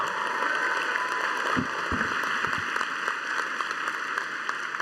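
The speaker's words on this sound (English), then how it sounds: "how about another round of applause for Dylan and an amazing job." An audience at a college commencement ceremony applauds faintly and far off beneath a steady hall hum.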